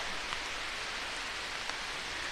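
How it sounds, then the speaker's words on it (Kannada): Steady, dense hiss of heavy rain falling continuously during a Kakanakote jungle safari, with a few brief sharper drops standing out and no voices. "ಸಿಕ್ಕಾಪಟ್ಟೆ ಮಳೆ ಇದೆ ಇವತ್ತು"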